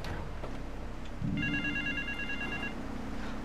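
Phone ringing in Grand Theft Auto III, a steady electronic ring tone that starts about a second in and holds over a constant background game hum, with no talk.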